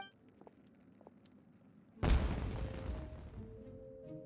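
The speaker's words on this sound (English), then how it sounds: "Was that an explosion? It sounded like fireworks." A fireworks explosion in Genshin Impact hits as one sudden loud boom after a quiet stretch, then a long crackling, rumbling decay fading under soft game ambience.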